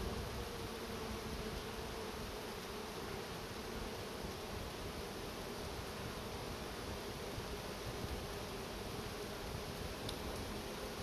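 Dense, steady buzz of many honeybees during a hive inspection while checking whether a colony accepted a new queen, a continuous close hum filling the whole clip with no talking.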